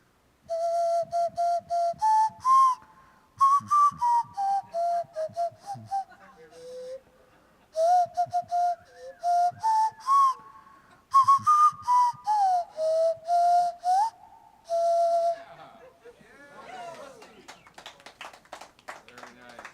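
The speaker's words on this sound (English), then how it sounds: "I'm not sure if all of you know what a nose flute is" A nose flute plays a bright, pure, whistle-like melody in short phrases of quick repeated notes with small pitch slides, alone and fairly close, ending in a few scattered breathy puffs.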